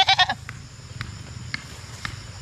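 Goats newly brought to graze on grass bleat in a quick wavering burst at the start, then fall quiet under steady outdoor background noise with a few faint knocks.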